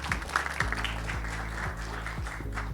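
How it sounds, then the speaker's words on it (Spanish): An audience at an endocrinology conference in Lambayeque, Peru, gives a warm round of applause welcoming a speaker, with many hands clapping steadily under a low background hum and no voices. "Lo recibimos con un cálido aplauso."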